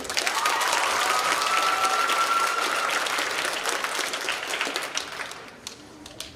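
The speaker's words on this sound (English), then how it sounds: "Everyone give a big round of applause for Cameron Pree" A school assembly crowd gives a big round of applause for Cameron Pree, dense clapping and some cheering that holds strong and then tapers off toward the end.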